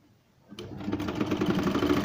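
A home sewing machine starts up and runs steadily, stitching a homemade cloth face mask with a close, rapid mechanical whir after a brief quiet moment.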